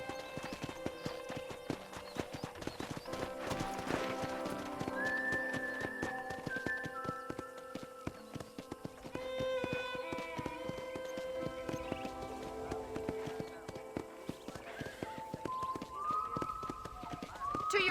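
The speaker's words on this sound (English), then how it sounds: "let's see if you can still ride a horse" Horse in the Red Dead Redemption video game galloping around a ranch, with rapid, continuous clip-clop hoofbeats and an occasional whinny over tonal background music.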